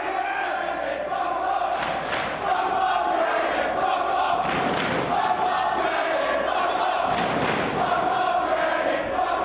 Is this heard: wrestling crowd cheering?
yes